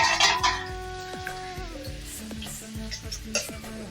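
Tamarind paste is stirred into soft cooked tomatoes in a pan, with a spoon scraping and clinking against the metal over a low sizzle, a few sharp taps punctuating the mixing.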